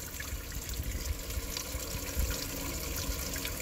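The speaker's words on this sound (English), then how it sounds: "See the water that flows over?" Continuous gentle flow of water trickling over small pods in the buckets of a pumped tower garden, a steady close wash without voices.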